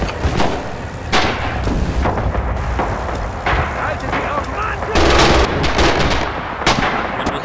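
Artillery and gunfire from the WWII shooter game Red Orchestra 2 crash in a dense, continuous barrage of loud booms and sharp reports, with players' voices talking over the battle.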